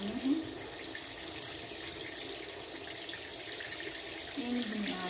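Tap water runs steadily into a tub or bucket of clothes waiting to be washed, a continuous even splashing hiss that stays close and loud the whole time with no talk over it.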